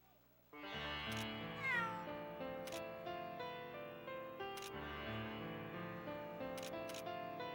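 A cat meows in the Mana Khemia: Alchemists of Al-Revis game, its cries rising and falling over soft, steady background music with occasional sharp clicks.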